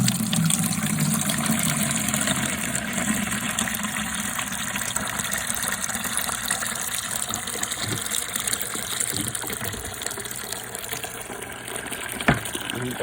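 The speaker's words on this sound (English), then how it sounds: "I'm dumping the water" Dirty water dumped from a carpet cleaning machine, a steady loud gushing pour with a constant low rumble running throughout, a few faint knocks near the end.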